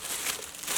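Plastic wrapping crinkles and tears as it is pulled off a tomahawk, a brief, close, continuous rustle with no talking.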